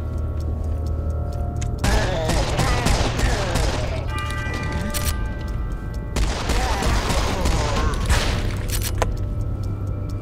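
Bursts of rapid gunfire from Serious Sam 4 come in dense volleys separated by short pauses, loud and close, with a steady low background hum.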